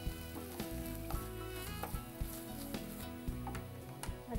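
Ingredients with mint sizzle in a hot pan, a constant close frying crackle broken by repeated clinks and scrapes of stirring, with no voice.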